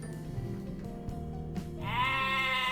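Sheep bleating in the Crash Bandicoot video game, a sustained harmonic bleat rising clearly over steady game music and ambience in the last second.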